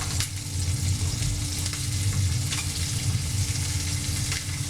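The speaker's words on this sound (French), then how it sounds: "la cuisson des pommes de terre a démarré" Potatoes cooking in a pan over a flame, giving a steady, close sizzle and crackle of frying that continues evenly throughout with no voices.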